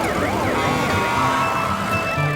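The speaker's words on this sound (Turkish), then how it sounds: "bakın itfaiye arabası ne kadar hızlı gidiyor. Sanırım bir yerde yangın var." A cartoon fire truck races along with its siren wailing loudly and steadily in rising and falling sweeps, with no talk over it.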